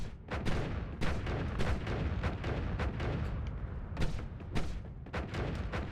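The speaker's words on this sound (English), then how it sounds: "The explosions can cause me problems, but it wasn't debilitating" Rapid bursts of loud, booming explosions from the video game Noita crackle one after another in an irregular, dense barrage, with heavier blasts punctuating a constant rumbling roar.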